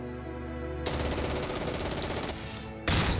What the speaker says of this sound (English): now we're taking fire up here